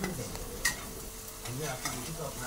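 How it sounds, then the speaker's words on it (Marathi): Tempered food stirred in a pan for a home-cooked non-veg dish, a few soft scrapes and a sharp clink against the pan over a low sizzle, close and fairly quiet with no talk. "आणि आता मिक्स घेते करून मी."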